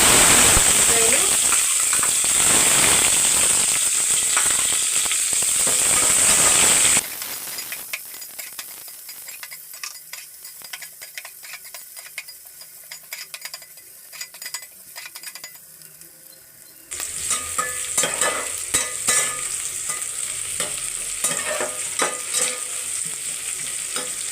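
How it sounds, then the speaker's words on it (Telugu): Chicken biryani ingredients, including bay leaf, fry lightly in a pan with plain rice nearby. A continuous close sizzle runs with stirring scrapes, dropping quieter midway before swelling back louder. "లైట్గా ఫ్రై చేయాలి"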